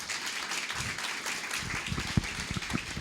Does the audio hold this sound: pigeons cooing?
no